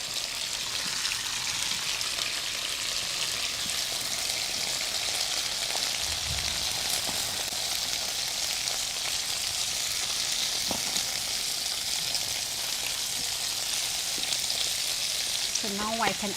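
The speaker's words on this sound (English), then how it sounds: "And hear the sizzle." Steady, crackling sizzle of food frying in hot oil, continuous and fairly close, with a few faint clinks and no talking.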